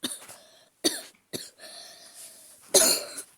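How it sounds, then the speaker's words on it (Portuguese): A person with a cold, recording under a blanket, coughs four times, each cough short and close, with quiet breathy pauses between them. "Tô gripado, tô tossindo."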